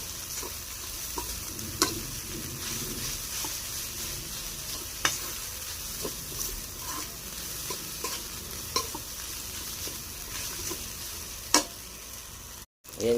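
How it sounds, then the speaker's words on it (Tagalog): Leftover rice is sautéed in a pan, giving a faint, steady sizzle with soft scraping and occasional clicks from stirring. "Para di masayang yung kanin guys, kaya ayan, gigisahin natin"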